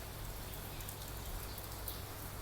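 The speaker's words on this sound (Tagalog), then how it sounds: "Ang lakas ng ulan dito guys, Hong Kong guys." Steady, dense heavy rain in Hong Kong hissing without pause, with occasional patters of drops landing nearby; no voices.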